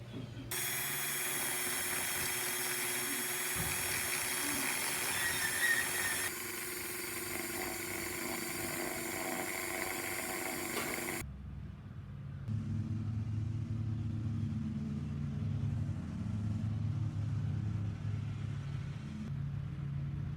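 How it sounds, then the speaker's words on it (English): A Dremel rotary tool sands a plastic Schleich unicorn figure, a thin high-pitched whine over a low motor rumble that runs steadily, cuts out abruptly partway, then gives way to a quieter lower hum. "So, since I'm lucky enough to have a Dremel, I'm going to use that."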